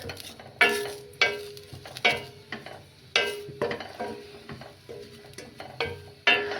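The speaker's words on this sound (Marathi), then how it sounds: "ड्राय खोबरंच आहे आपलं, पण थोडंसं तुपात भाजून घेऊ, म्हणजे कढई तुपाचंच आहे" Dry coconut roasting in ghee in a kadhai, heard as repeated scraping and knocking of a spoon stirring against the pan, with a soft sizzle underneath and no talk.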